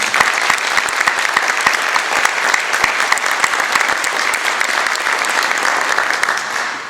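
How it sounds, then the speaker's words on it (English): An audience at a school celebration of excellence breaks into a steady, even round of applause, dense clapping from many hands holding at a constant level before tapering slightly at the end. "please join me in a round of applause just to appreciate them"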